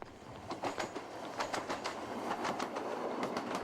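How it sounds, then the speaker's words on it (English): A train rolls past a user-worked level crossing with a steady, rhythmic clickety-clack of wheels over rail joints, moderately near and continuous, with no voices. "Now that a train has passed"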